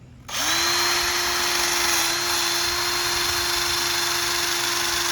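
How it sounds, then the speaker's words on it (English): A power drill fitted with a wire wheel brush spins up and runs steadily at high speed cleaning threads, a loud continuous whine with a gritty brushing rasp, close by and without pause. "Grab your favorite drill with your wire wheel in it."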